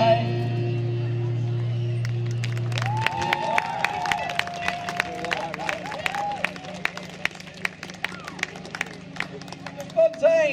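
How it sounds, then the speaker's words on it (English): Audience at an All Saints School concert in Sheffield claps and cheers for the school band after their song, with a brief sustained tone at the start, then scattered clapping and crowd noise with a voice talking over it. "Another round of applause, please. Screaming, shouting, going nuts."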